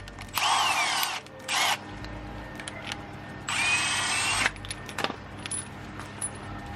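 Power tool tightening a subframe bolt on a Subaru Crosstrek being lifted, two loud close bursts of whirring drill, then a third longer burst, with metallic clinks and taps between and no talk.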